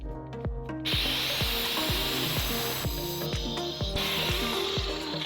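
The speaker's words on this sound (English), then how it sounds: "Running the grinder over the head of the bolt will just make sure that it splits the nut completely." Angle grinder cutting into the corroded head of a suspension bolt on a 12-year-old MK2 SEAT Leon, a harsh loud whine broken by a quick series of sharp rhythmic clatters and knocks.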